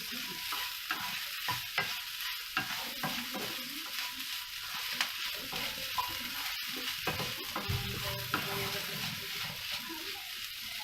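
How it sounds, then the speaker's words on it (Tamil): Okra fries with curry leaves in a pan while being stirred, giving a soft crackling sizzle broken by repeated scraping strokes of the spoon, close and fairly quiet. "ஸோ நம்ம கறி லீவ்ஸ் சேர்த்து ஒரு தடவை நல்லா மிக்ஸ் பண்ணிடலாம்."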